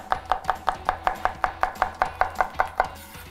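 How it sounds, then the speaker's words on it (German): Quick, steady knife chops of chili on a board, a dozen sharp taps in an even rhythm, close and fairly loud. "Weiter schneide ich Chili."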